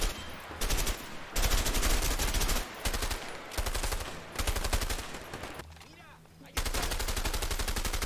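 Rapid automatic gunfire from the video game A Way Out, loud dense bursts repeating in blocks with brief gaps, one quieter stretch before the shooting resumes.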